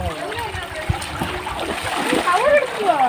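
A fish released by hand into the water at a village river or pond bank splashes close by, under continuous chatter from people nearby.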